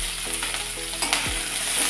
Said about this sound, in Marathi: आता ही मिरची चांगली भाजून घ्यायची